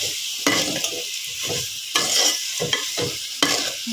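Meat frying in a pan with haleem spices—turmeric, coriander powder, cumin powder and meat masala—being stirred, giving a steady close sizzle broken by repeated scraping strokes of the spatula at a regular rhythm.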